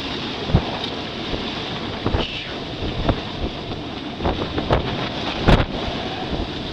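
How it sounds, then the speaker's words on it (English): Strong wind rushes past the microphone aboard a racing sailboat at sea, bound for Bermuda, with steady buffeting gusts, intermittent thumps and water slapping against the hull throughout. "And the wind is flying."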